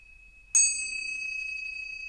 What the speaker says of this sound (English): give these chimes 3 rings